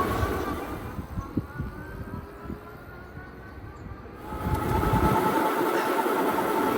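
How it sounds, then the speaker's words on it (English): A Cyrusher Ovia electric bike pulls away on pure throttle with no pedal assist, giving a steady rolling whir and rushing wind noise that surges louder partway through, with no voices. "All we're going to do is twist the throttle back and see how quickly it accelerates."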